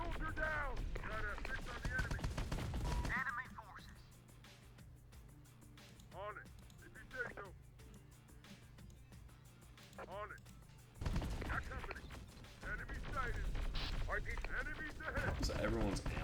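Rapid gunfire and distant explosions crackle through a video game battle in a sandbox base-building game, with talk and radio-style voices over and between the shooting.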